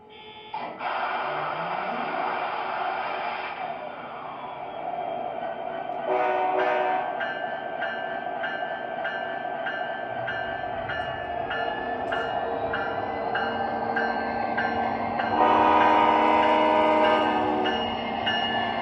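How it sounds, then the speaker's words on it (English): An MTH model NS Heritage Unit 1071 Penn Central locomotive starts up with a steady diesel engine rumble and bell-like tones, then a loud sustained horn blast near the end, all close and continuous. "let's go ahead and fire this thing up and pull it out of the tunnel."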